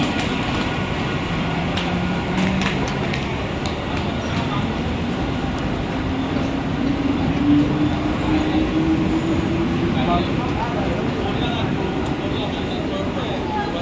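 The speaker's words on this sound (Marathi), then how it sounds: "प्लॅटफॉर्म क्रमांक 1 पर आई हुई लोकल 7:35 की कल्याण जाने वाली ही लोकल है" A Mumbai local commuter train at a platform at night rumbles steadily close by with a faint rising whine, a sustained rail-car drone that fills the whole stretch without pause.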